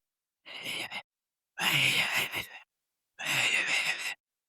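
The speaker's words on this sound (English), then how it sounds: "You hear that breathing first. And it's not like aggressive monster breathing" Three drawn-out, airy wheezing breaths from a creature in Resident Evil 4, close and fairly loud, each a ragged hiss with a rough low rasp, separated by short silences.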